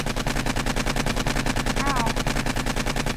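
Rapid automatic gunfire in the zombie game 7 Days to Die rattles continuously in an even, fast rhythm, loud and close, with a faint voice underneath.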